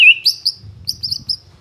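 A white-rumped shama (murai batu) songbird gives a quick series of clear, high, close chirps and whistled notes in short bursts, with a faint low rumble underneath.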